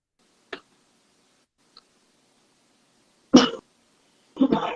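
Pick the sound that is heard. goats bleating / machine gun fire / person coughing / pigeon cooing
person coughing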